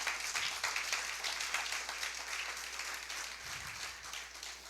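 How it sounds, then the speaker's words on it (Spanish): A church congregation applauding during a sermon, a fairly faint, continuous patter of many hands clapping with a low steady hum underneath. "Denle un fuerte aplauso al Señor."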